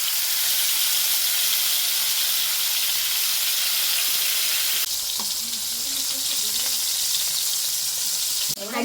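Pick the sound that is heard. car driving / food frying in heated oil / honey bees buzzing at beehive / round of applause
food frying in heated oil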